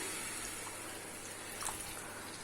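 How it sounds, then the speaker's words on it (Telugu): A glass of water is poured into a frying masala curry for puri, a steady broad rush with a brief splash, heard close and alone. "ఒక గ్లాస్ వాటర్ పోసుకుని"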